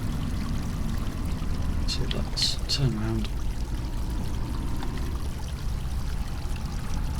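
A vehicle splashes through a shallow river on the Garth Farm map of a farming video game, with steady rushing, pouring water throughout and someone talking over it.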